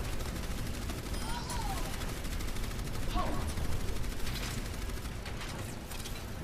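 Rapid gunfire from a competitive Overwatch match, a dense clattery stream of shots and mechanical weapon noise running throughout under continuous game sound, with a voice faintly present.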